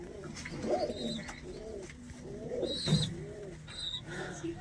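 Domestic pet pigeons in a loft coo softly and repeatedly at close range, their low rolling calls rising and falling over a quiet hiss of background noise.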